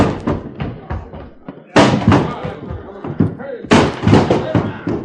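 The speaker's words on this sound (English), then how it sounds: "one more rush to get that door open" Heavy wooden door rammed repeatedly to force it open, in an old radio adventure drama; loud booming slams with splintering crashes in bursts, mixed with shouting voices and scuffling.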